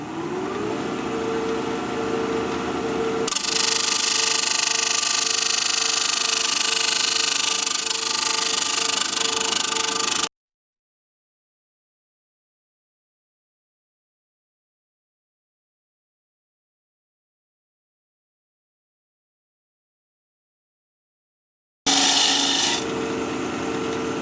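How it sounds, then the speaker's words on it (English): A wood lathe spins at 1500 RPM while a 5/8 inch standard-grind bowl gouge cuts an end grain bowl, producing a loud, continuous rasping scrape. The sound cuts out to silence midway and then returns briefly. "We'll just get at it with our 5/8 inch standard grind bowl gouge, mask and face shield on, 1500 RPM."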